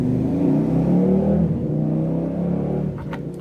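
A motorbike engine drones steadily nearby outside a house, rising and falling slightly as it revs, then fades away toward the end.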